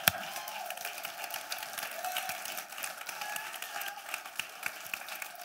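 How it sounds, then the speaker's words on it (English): Church congregation clapping together during an ordination service, a steady dense wash of applause with scattered cheers, fairly loud and continuous without talk. "Give the Lord a clap offering."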